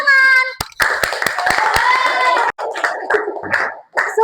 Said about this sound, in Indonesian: kita beri apresiasi tepuk tangan